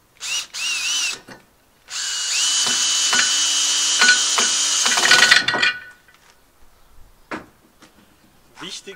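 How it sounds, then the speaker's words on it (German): A power drill drives screws into a chestnut wood sleeve joining yurt side poles. A short whining burst comes first, then a longer, louder run of about three seconds that rises in pitch and ends with a few faint knocks. "Und dann kann ich die Löcher hier festschrauben."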